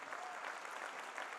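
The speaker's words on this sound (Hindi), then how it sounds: "एक बार जोरदार ताली आप" Audience applause at a goodwill gathering, a dense, even wash of many hands clapping, fairly faint and distant, with no break.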